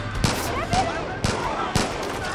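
Gunshots in the open-world shooter game Far Cry 5: about four loud, sharp reports spaced roughly half a second apart, close and punchy over a busy background.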